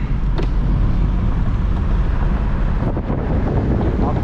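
Wind rushes in through the opened sunroof of a moving Toyota Innova on a road trip, a loud, steady broadband roar with brief gusty bumps and no talking.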